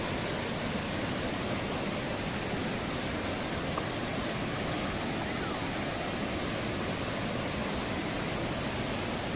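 Secret Falls in Samar roars as a powerful waterfall, a dense, continuous rushing wash of water that stays loud and unbroken throughout, with no voices audible.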